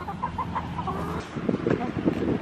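A sick hen clucking softly nearby in a few short murmured calls, followed by rustling and handling noise.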